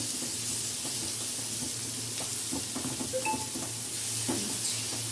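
Spices and ground tomatoes with dried mango powder sizzle steadily in a pan for okra curry, with a spoon stirring and scraping against the pan up close and no talking.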